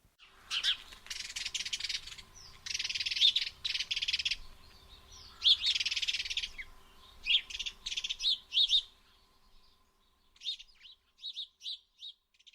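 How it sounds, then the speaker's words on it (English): Wild house sparrows call in Britain, with bright, repeated chirps in scattered bursts, some dense and overlapping, others isolated, fairly close and with no voices. "The house sparrow is one of the most numerous birds in Britain."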